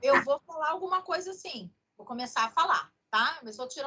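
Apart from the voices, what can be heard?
No everyday noise stands out behind the speech.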